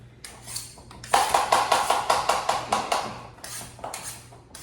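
A knife chops tomatoes, peppers and onion on a cutting board for pico de gallo, giving about a dozen quick, evenly spaced, close knocks in a burst, with a few looser taps before and after.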